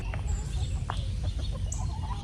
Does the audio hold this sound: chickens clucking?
yes